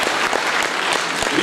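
Dense audience applause at a Christian music performance, steady and close, with sharp individual claps standing out through the full burst.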